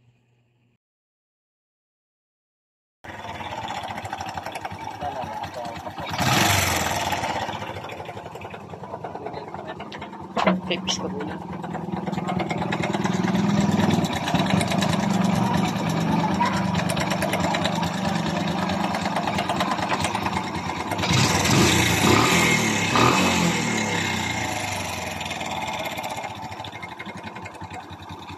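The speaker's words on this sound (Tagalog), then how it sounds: "pakinggan nyo kung anong tunog meron ang kanyang makina. Kaya kickstart na natin." A Kawasaki Bajaj CT 100 motorcycle engine is kicked over and catches, then settles into a steady mid-pitched idle with revving swells, while a voice talks over it; the engine has timing chain noise.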